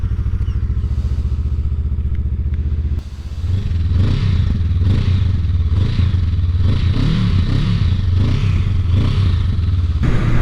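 A Honda CMX 500 Rebel S with its stock exhaust idles with a low, even thrum, then starts up or revs at about three seconds into a louder, throbbing, loping engine note close by.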